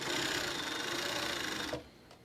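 A sewing machine back stitches along a fabric mask with ties, a close, continuous whirring clatter that cuts off sharply near the end, leaving quiet room tone.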